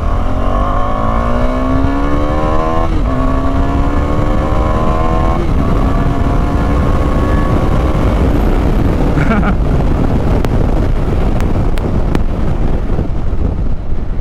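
A 2024 KTM Adventure 390 motorcycle heads off-road, its engine climbing in pitch through several gear changes, then settling into a rough, steady run under heavy wind noise.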